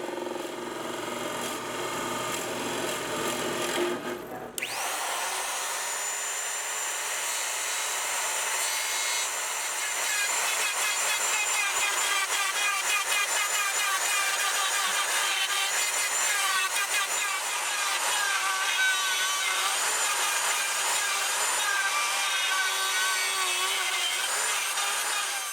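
A Forstner bit and router cut guitar pickup cavities into a wooden body, a steady loud whining grind that runs on without pause after a brief quieter start.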